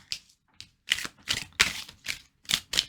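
Tarot cards are shuffled up close in a series of crisp, papery riffles and slaps, about eight short bursts with brief gaps between them and no talking.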